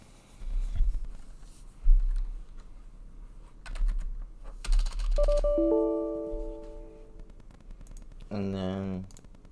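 Keys tapped on a computer keyboard while entering a password and a command, producing scattered close clicks and short bursts across the clip, with a brief tonal chime near the end.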